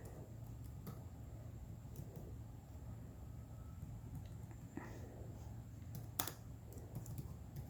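Faint, scattered keystrokes tap on a computer keyboard against a low steady room hum, with a few slightly louder clicks near the end.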